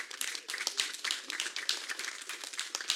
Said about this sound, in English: Once again, round of applause for Mr. I